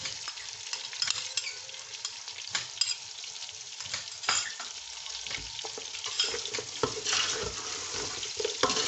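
Ginger and garlic fry in a home kitchen pan for white pulao, a steady close sizzle with scraping stirs and small crackles running throughout, no voices.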